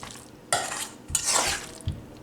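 Stirring a pan of sun-dried tomato Alfredo sauce mixed with turkey bacon: a few scraping, clinking strokes of a utensil against the pot in separate bursts, close and moderately loud, with no voices.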